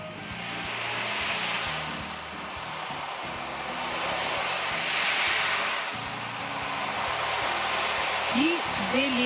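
An ocean drum imitates the sea with a steady, washing hiss that swells and recedes in slow waves, played close during a sound healing session, with low murmuring beneath it.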